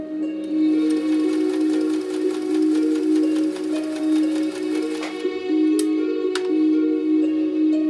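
A Kenmore sewing machine stitches a straight seam, its steady motor hum and needle clatter running loud and close for about five seconds, then a brief lull with a couple of sharp clicks before it starts up again.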